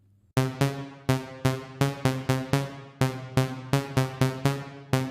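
A bright synth plays a run of short, evenly struck chords, each followed by a quick reverb tail that starts almost immediately, with no talking.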